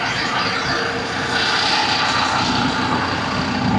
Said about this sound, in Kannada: ಸಖತ್ತಾಗಿದೆ ಅಲ್ವಾ ಇಂಜಿನ್ ಸೌಂಡು